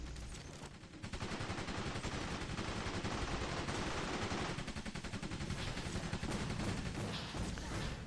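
A light machine gun fires in the video game Orion Prelude, a loud, dense stream of rapid automatic shots that runs almost continuously for about seven seconds after a brief quiet start.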